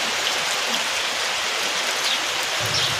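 Rain falling steadily outside a village home, a dense even hiss of drops on surfaces filling the whole stretch, close and continuous with no voices.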